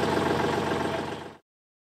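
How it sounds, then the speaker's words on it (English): A pressure washing system's engine idles with a steady, dense mechanical rumble close by, then cuts off abruptly into silence after about a second and a half. "Once the engine is running, the low pressure light will go out, indicating that the system is ready for use."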